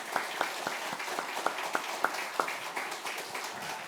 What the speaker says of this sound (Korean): 힘차게 박수로 영광을 돌리겠습니다.